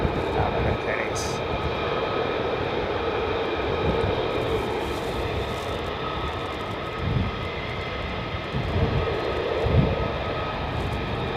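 A military jet departs RAF Lakenheath, a steady broad roar of engine noise with low rumbling surges, fairly loud and sustained throughout, with a voice faintly present.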